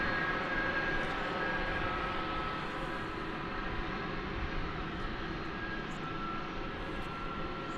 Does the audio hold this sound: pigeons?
no